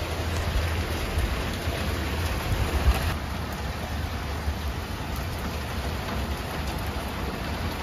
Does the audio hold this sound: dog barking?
no